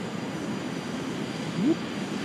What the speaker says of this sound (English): We're flying with two Rolls-Royce Avon 301Rs.